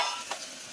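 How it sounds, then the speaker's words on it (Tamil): Onion and green chillies fry in hot oil in a pan. A brief, close sizzle is broken by a couple of stirring scrapes. "வெங்காயத்தையும் பச்சை மிளகாயும் போட்டு எண்ணெயை காணும்"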